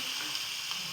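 Chopped onion sizzling in a hot pan while cooking veg momo filling, a brief, even hiss of frying heard close up, steady and without speech.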